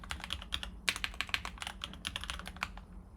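Fast, close clicking of keys on a computer keyboard as a password is typed, in quick irregular bursts with short pauses and no talk.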